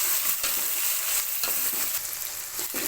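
Tomatoes and onions sautéing in a pan for Tamil fish kuzhambu, a dense even sizzle punctuated by a few stirring scrapes, close and fairly loud, without any speech.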